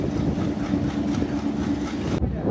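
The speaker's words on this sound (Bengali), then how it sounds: "শ্রীনগর রেল স্টেশন ছেড়ে দিল খুলনা অভিমুখী 26 ডাউন নকশিকাথা কমিউটার ট্রেন" The 26 Down Nakshikatha commuter train bound for Khulna, just pulled out of Srinagar station, makes a steady, close, loud rumble of engine and rolling wheels; the hiss drops away shortly before the end.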